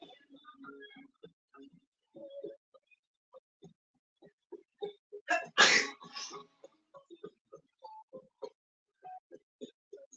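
A single loud sneeze bursts out midway through a quiet room, surrounded by scattered faint clicks and small noises.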